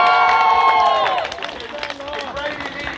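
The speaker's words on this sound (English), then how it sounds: "we shall give a big cheer for all the young people" A protest crowd gathered against Elbit Systems in Oldham cheers loudly, with whistles and shouts over the din, then settles into a quieter murmur of voices and a few calls.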